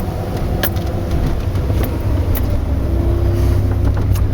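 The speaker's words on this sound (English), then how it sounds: "I'm just kind of getting a feel for it with the truck." A pickup truck used for plowing and salting drives on snowy roads, its engine a steady loud rumble with road noise and a few sharp clicks throughout, no talk.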